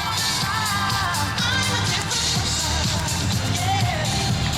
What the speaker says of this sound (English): let's give the Cowgirl a big round of applause